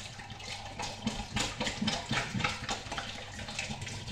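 Hot water runs steadily from a tap to rinse home brew beer equipment, a continuous splashing flow with uneven gurgles and spatters, fairly close and alone without any voices.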